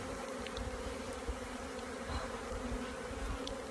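A large, strong honey bee hive hums with a dense, steady buzzing of many bees, close and continuous, with no talking.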